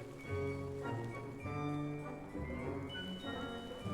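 Rain falls steadily in the Hogwarts Legacy video game, a quiet wash of patter under a sustained musical score with tonal notes.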